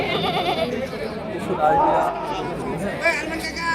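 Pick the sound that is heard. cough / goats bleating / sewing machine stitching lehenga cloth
goats bleating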